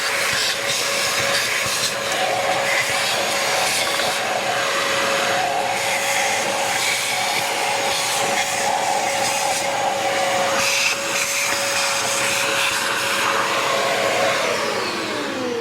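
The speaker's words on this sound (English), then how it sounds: "Slow down, suck all the muck up too." A shop vacuum sucking muck out of a rusty old Farmall Super H tractor, with a loud, continuous whining roar holding steady for the whole stretch and no one speaking.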